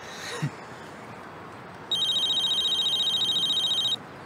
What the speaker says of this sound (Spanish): Creo que es tu teléfono.